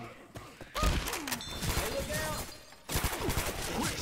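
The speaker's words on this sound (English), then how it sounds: "I know that was you shooting me." Rapid gunfire from Left 4 Dead 2 crackles in quick bursts with thumps, mixed with game sounds and faint player voices in the background.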